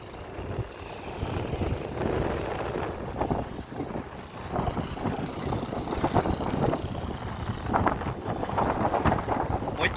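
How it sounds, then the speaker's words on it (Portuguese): Strong wind blows across the renovated beachfront promenade at Praia de Iracema in Fortaleza, a loud, steady roar of buffeting on the microphone with gusty surges throughout. "muito vento, viu, pessoal,"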